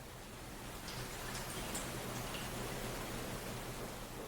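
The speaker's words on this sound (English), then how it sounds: "As the rain continues to fall" Steady rain falling softly, a continuous even hiss with faint scattered drop ticks throughout, no voices.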